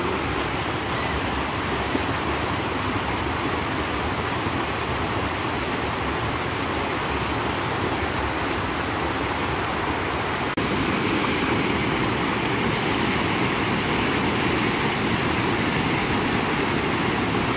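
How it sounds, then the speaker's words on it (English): Small waterfall at Saunders Springs: a steady, full rush of falling water, broadband and continuous, close by and fairly loud, growing slightly louder partway through, with no voices. "So we found another little waterfall over here."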